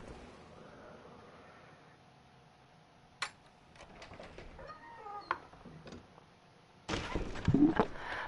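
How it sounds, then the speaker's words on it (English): A pet cat meowing indoors, several short meows scattered among faint clicks and light handling noises, then a louder rustling burst at the end. "just playing with my cat right now."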